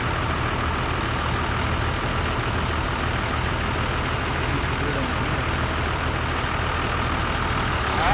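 A truck creeps along at about 5 mph during a service-brake check in Houston, Texas, giving off a steady, even low engine rumble throughout.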